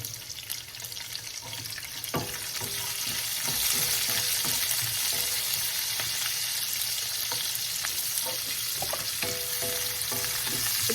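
Garlic and onion sauté in a pan for beef pares, a continuous close sizzle that swells after a clatter as ingredients go in, with occasional utensil knocks and no talk.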